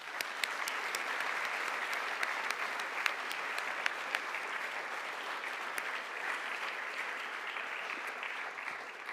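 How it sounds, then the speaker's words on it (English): A room full of people applauding steadily, a dense patter of clapping with sharp individual claps standing out, moderately distant. "if we wouldn't mind giving them a round of applause"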